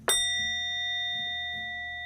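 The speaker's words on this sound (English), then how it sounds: "May the sound of the bell clear all negativity from your mind" A single bright ritual bell strike rings out at a Mabon gathering, then a long, clear tone with steady overtones slowly fades, with faint soft thuds in the background.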